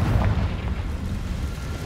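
A Confringo fire-blast spell in Hogwarts Legacy bursts with a loud, booming explosion at the start, then rolls into a rumbling decay.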